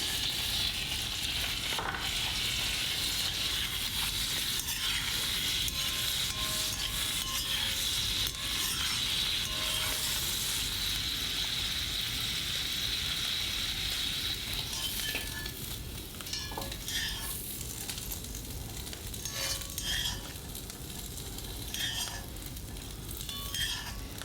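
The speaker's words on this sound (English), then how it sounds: "Now it's time to fry the meat." Meat frying in a pan for a homemade noodle dish: a steady, close sizzle runs throughout, with scraping stir and clinks of a utensil against the pan, and no talking.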